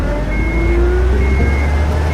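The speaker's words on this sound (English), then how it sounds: "Crap, they started the engine." A truck engine idles in the stealth game UnMetal, a loud steady low rumble with a faint rising whine and no pauses, close by and heard on its own.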